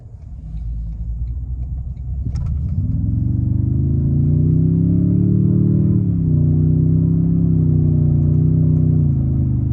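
A 2024 Toyota Tundra TRD Pro engine rumbles loud and steady from inside the cab as the truck accelerates, its drone climbing in pitch with a brief dip at a gear change, then pulling on smoothly.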